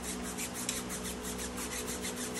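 A scrub brush works over tire sidewalls while a car is cleaned and prepped for dressing, giving quick, even back-and-forth bristle strokes in a steady close-up rasp with no talking.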